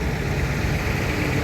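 A tractor engine idling nearby in a line of farm tractors, a steady low, throbbing diesel rumble that holds even and continuous throughout, with no voices.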